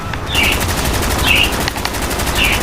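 Gunfire in Call of Duty: Black Ops comes as loud, close, rapid machine-gun bursts with a steady rattling rhythm for a few seconds. A sharp metallic whine recurs about once a second over the shots.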